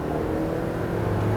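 A car engine roars steadily under hard acceleration, loud and close, a dense continuous drone with a rising tonal line near the end.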